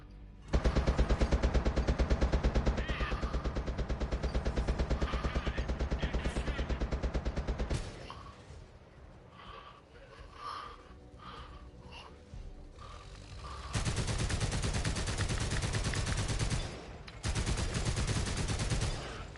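Rapid automatic tank cannon fire from World of Tanks roars in long, dense bursts, loud and continuous, broken by a quieter stretch of softer battle noise before the bursts return.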